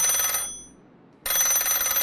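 A telephone bell rings loudly in two bursts separated by a short quiet gap, a bright, dense metallic ringing heard alone without speech.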